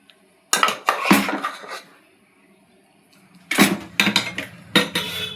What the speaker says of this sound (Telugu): ఈ ఉడికించుకున్న పప్పు మెదుపుకొని దీనిలో వేసేసుకుందాం.